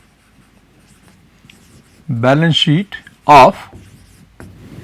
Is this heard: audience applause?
no